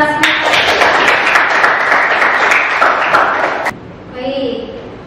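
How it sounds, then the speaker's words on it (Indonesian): A classroom of students claps loudly and briskly for a classmate, the burst ending abruptly after a few seconds, followed by faint voices talking afterward. "Sekali tepuk tangan buat Mbak Rasmita."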